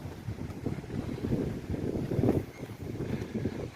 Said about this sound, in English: The wind's starting to kick up.